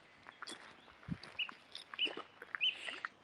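Faint birdsong in the grounds of the ruined Dryburgh Abbey in the Scottish Borders: a few short, high chirps at intervals over quiet rustling and soft footsteps, distant and low in level.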